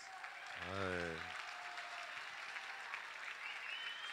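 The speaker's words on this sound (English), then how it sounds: "Please give them a huge round of applause." Faint audience applause at a school arts competition for a drama performance, a thin, even wash of clapping, with a voice briefly calling out over it near the start.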